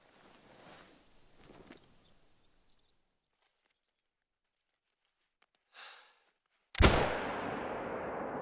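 A Tsurugi LRR .388 rifle fires a single loud, sharp long shot in theHunter: Call of the Wild, followed by a rolling echo, after quiet rustling movement.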